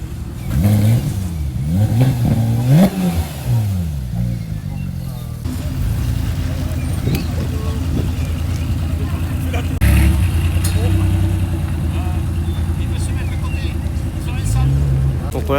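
Engines of a supercar convoy, Ferrari 430, Modena and 488 with a Porsche GT3, arriving together, with loud revving and sweeping pitch rises and falls, then a steady close drone, while people talk over it.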